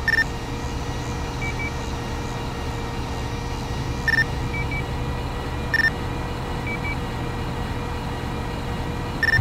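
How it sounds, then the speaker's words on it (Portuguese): Short electronic radio beeps in the Farming Simulator video game sound every second or two over a steady low engine-like hum, each bleep brief and bright, with a few fainter tones in between. "só sai o bip"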